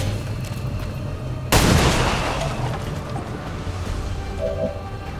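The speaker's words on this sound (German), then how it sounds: "Das ist ein Gratisschuss." A single loud gunshot fires in the video game XCOM 2: War of the Chosen, a sharp sudden blast that trails off into a long reverberant decay over a steady background hum.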